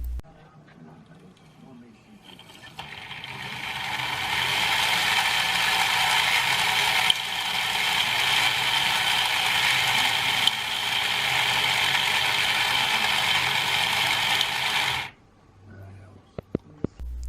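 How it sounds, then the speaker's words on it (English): Tyco toy operating culvert pipe loader mechanism from the US 1 Electric Trucking set, starting up and running as a steady buzzing, whirring motor hum for about twelve seconds before stopping with a few clicks. "The operating culvert pipe loader it just works."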